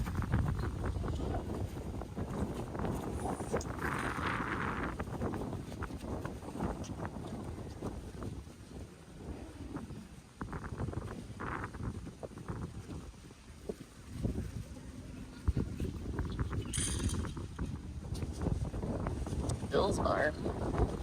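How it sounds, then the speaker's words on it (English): Strong gusts buffet a microphone outdoors on Fort Myers Beach, a constant low roaring rumble that fills the whole stretch, with faint voices and bits of beach activity buried under it. "It's windy. Sorry about the audio."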